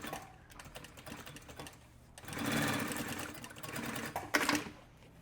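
A sewing machine stitches the side tabs of a leather wallet, running in steady bursts of rapid mechanical clatter that grow louder midway and pause briefly between runs.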